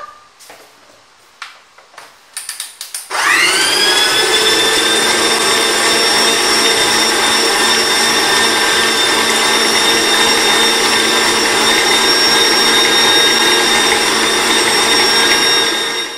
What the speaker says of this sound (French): je mets un œuf et je fais tourner mon robot en mettant de l'huile progressivement